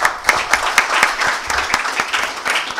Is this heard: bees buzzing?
no